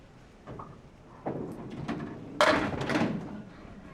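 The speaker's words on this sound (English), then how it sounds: "we're waiting for that technology to kick in again and send the ball returns back so that Dylan can take his next shot" At a candlepin bowling alley, the ball return machine gives a series of muffled thuds and clunks, building to a heavier knock, with a low rumble around them.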